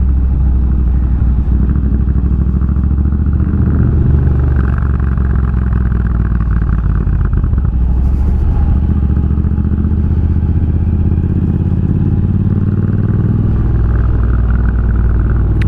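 A custom Triumph Bonneville bobber motorcycle engine runs with a loud, deep continuous rumble, steady throughout with slight swells in pitch, heard up close with no talking.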